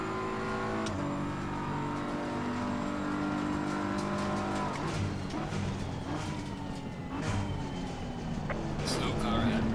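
A race car engine in the Assetto Corsa Competizione racing game revs and shifts through gears with steady high-pitched drone and rising accelerations, a continuous mechanical roar filling the clip.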